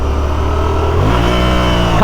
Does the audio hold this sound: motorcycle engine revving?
yes